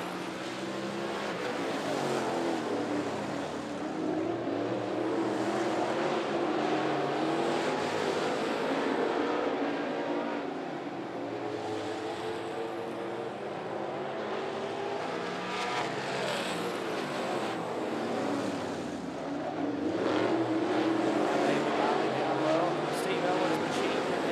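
Race cars roar around a short track at a Thunder & Lightning race, engines rising and falling as they pass, with a race announcer talking over the continuous, moderately distant din.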